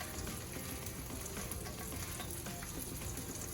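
Tortillas fry in a hot pan for enchiladas, a dense, even sizzle with faint crackles, close and steady with no talk.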